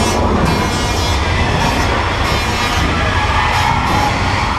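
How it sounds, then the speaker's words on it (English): A train bears down during a Universal Studios Hollywood studio tour ride, a loud, steady roar and rumble with squealing, hissing bursts that stays close and constant throughout. "Here comes the train."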